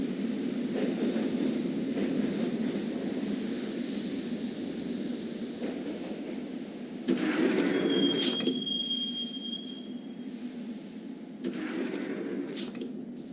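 A train in the video game Max Payne rumbles along with metallic wheel squeals and screeches rising over a steady low roar, growing louder in bursts partway through.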